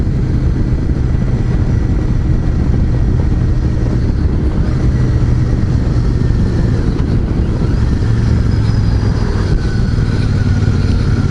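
A Royal Enfield Super Meteor 650 in Celestial Red is ridden, its engine droning loud and close with a steady low throb and slight pitch changes as gears shift.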